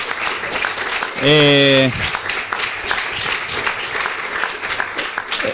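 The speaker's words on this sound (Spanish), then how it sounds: "pedimos un aplauso para todos los candidatos que han estado hoy aquí" Audience applause for the candidates at a university debate for national deputy seats, a continuous dense clapping throughout, with a loud sustained tone briefly cutting through near the start.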